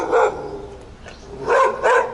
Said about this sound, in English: But there's a dog up there that's barking.